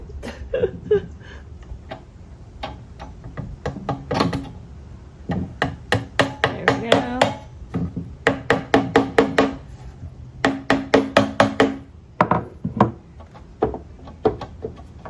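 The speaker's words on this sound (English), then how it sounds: "let me see if I can hammer this back in" Repeated hammer blows on wood, sharp knocks arriving in quick bursts with short pauses, close and fairly loud, as a piece is tapped back into a vintage faux bamboo dresser.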